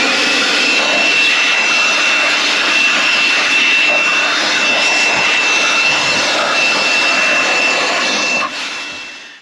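Strong, steady rush of blown air clearing construction dust out of a Heil/Tempstar 80% furnace, loud and close, holding constant before dropping off at the end.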